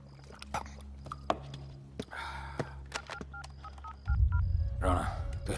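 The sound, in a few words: telephone being dialed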